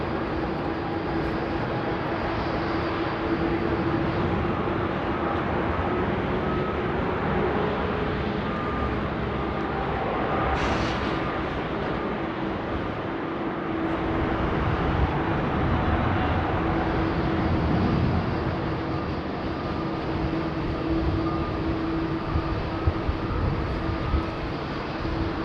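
Singapore Airlines jet at Sydney Airport, its engines a continuous loud roar with a steady tonal whine that holds through the whole stretch, with no one talking.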